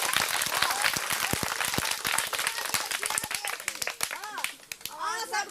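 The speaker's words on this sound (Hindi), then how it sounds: "एक बार जोर से ताली मार दियो" A live audience claps loudly at a Maithili comedy stage show, a rapid, uneven burst of many hands, fairly close, with children's voices and chatter rising near the end.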